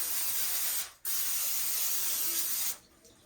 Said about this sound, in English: I'm gonna use some spray butter.